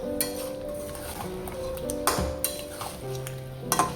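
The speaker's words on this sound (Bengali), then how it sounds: "দেখো আজকে শুধু কষা কষাই করবো ঝোল দেব না একদম কষা কষা হবে মাংসটা" Meat being dry-fried (kosha) in a pan, with a low sizzle under repeated stirring and metallic clinks and scrapes of a spatula against the pan.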